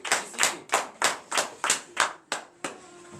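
Church congregation at a morning prayer service claps in unison in praise of Jesus, about eight sharp, evenly spaced claps in a steady rhythm, close and fairly quiet, with no talking.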